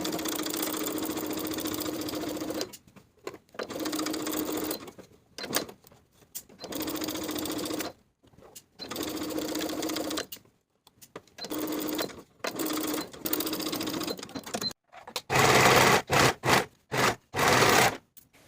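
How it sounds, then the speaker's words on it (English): Sewing machine stitching dress skirt panels together with a straight half-inch seam, running in loud close bursts of steady motor hum broken by short pauses, ending in faster, harsher stitching runs. "Sew these pieces together with a 1/2 inch seam allowance straight across"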